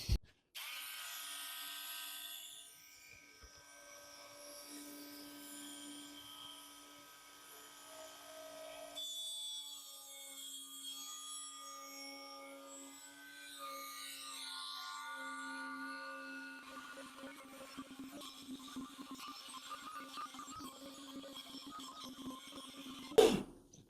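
A small rotary tool whines steadily at a fairly low level while cutting a shallow purfling channel around the soundhole of an oud's wooden soundboard. The tone holds with slight shifts in pitch, then a brief knock comes at the very end.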